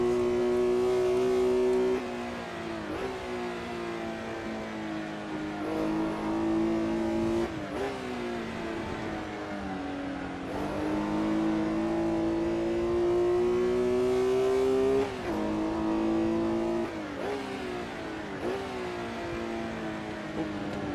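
Historic sports car engine in the Assetto Corsa racing game at Goodwood, droning loudly and steadily for the whole stretch, rising and dipping with repeated gear changes.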